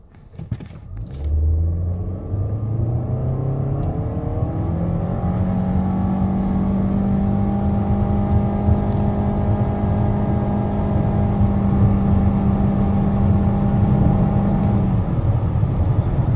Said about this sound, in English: Full throttle, flat ground, and sport